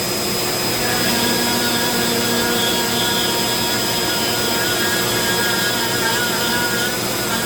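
A Dremel rotary tool running near top speed, about 25,000 to 35,000 RPM, carves eye details into a wooden staff, giving a loud, steady, close high-pitched whine with a constant tone and no talking throughout.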